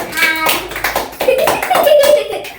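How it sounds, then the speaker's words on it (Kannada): A small group of people clapping at a home celebration, a brief burst of close, loud hand claps mixed with cheerful voices and a bit of laughter. "ಚಪ್ಪಾಳೆ"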